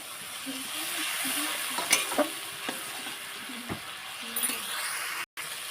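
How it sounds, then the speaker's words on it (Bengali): Spice paste with green chillies stir-frying in oil in a pan for a fish curry, heard as a constant close sizzle punctuated by the scrape and clink of stirring, without talking. "এই দেখুন ভালোভাবে কষিয়ে নিয়েছি একদম তেল মশলা থেকে তেল ছেড়ে গেছে"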